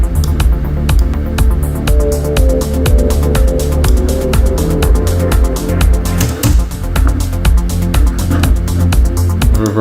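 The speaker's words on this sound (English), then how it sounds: "I'm going to use the delay designer with the default preset" Electronic music run through a Delay Designer effect on its default preset plays steadily and loudly, with dense rhythmic hits and repeating echoes throughout.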